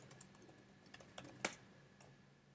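Quick, light typing on a Mac computer keyboard, faint and close, with a handful of crisp taps in an uneven rhythm and one sharper key press.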